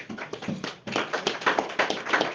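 A church congregation in Cameroon applauds after a scripture reading, a dense patter of many hands clapping for about two seconds, fairly close and steady with a brief dip partway through.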